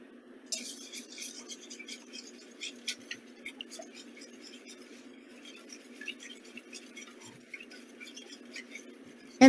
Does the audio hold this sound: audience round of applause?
no